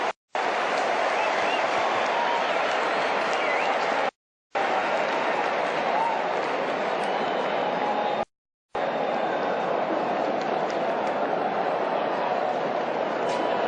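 A cricket stadium crowd roars and yells steadily during a super over, a dense, loud, continuous wash of cheering that breaks off twice for brief moments.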